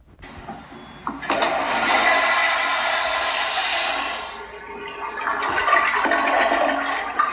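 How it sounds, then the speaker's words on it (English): A toilet flushing in the Roblox video game, a loud rushing whoosh of water that starts abruptly, holds steady for a few seconds, dips, then surges again before fading. "Flush it again."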